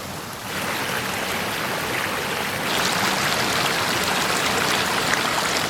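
A river flows on rural land in Veracruz, Mexico, giving a continuous broadband rush of moving water, close and steady, growing slightly louder midway with no voices.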